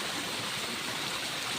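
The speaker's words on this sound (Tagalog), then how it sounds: "Dito tayo sa ilog." A mountain freshwater river rushes steadily outdoors, a continuous broadband wash of flowing water with no pauses and no voices.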